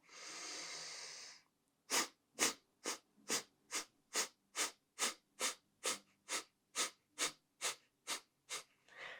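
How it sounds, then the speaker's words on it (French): Kapalabhati yoga breathing: one long deep inhale through the nose, then a steady series of about sixteen short, forceful, evenly spaced exhalation puffs, close and clear. "On inspire profondément. Et on va expirer par petites secousses en venant ramener le nombril vers la colonne."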